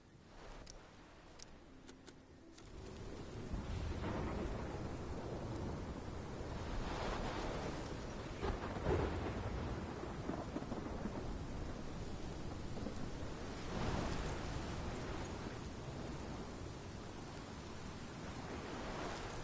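Thunderstorm in the video game Life is Strange, with heavy rain as a constant wash and deep rumbles of thunder swelling and fading several times, fairly quiet overall.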